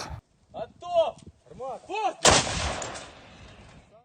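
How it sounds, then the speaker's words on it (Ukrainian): Short shouted calls ring out, then a single loud, sharp artillery gun blast booms close by and rolls away into a fading echo. "заряджання самої гармати, як воно проходить, наведення, ну і сам постріл"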